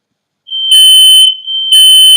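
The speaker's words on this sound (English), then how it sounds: "that alarm's gonna keep on going" A smoke alarm shrills with a steady high-pitched tone, sounding in two loud bursts close by with a short dip between them and no voices.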